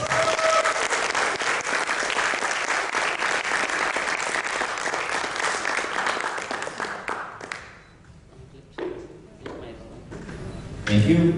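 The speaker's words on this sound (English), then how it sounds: "Can we give a round of applause for Arlen?" An audience at a product presentation event gives sustained, dense applause for about seven seconds, then it thins to scattered claps.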